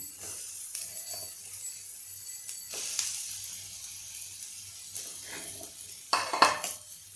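Potatoes stirred in a pan of oil: soft scraping and clinks from a spoon against the pan, with a louder burst of scraping near the end, close and faint over a quiet hum and light sizzle.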